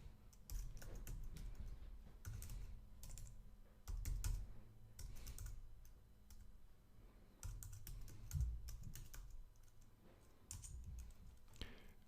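Typing on a computer keyboard while entering Linux terminal commands: bursts of quick, close key taps separated by short pauses, soft and steady with no voices.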